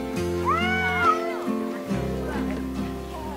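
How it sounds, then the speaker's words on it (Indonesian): Cats growl and meow in a close, loud scrap between rival cats, with a rising yowl near the start, all under steady background music and a narrating voice. "Biasanya kucing akan mengeluarkan suara menggeram saat berkelahi dengan kucing lainnya."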